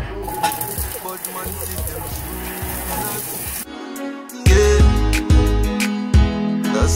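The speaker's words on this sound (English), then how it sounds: "the only thing we're sauteing right now is the asparagus and" Asparagus and scallion sauté in a hot pan for a vegan dish, a steady crackling sizzle at first, then louder, closer clanks and scrapes of a utensil against the pan.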